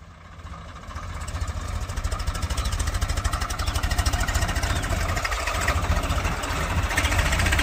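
A Swaraj 735FE tractor engine drives in fourth gear, a loud steady diesel chug that builds in the first second and then holds a constant, close rhythmic throb.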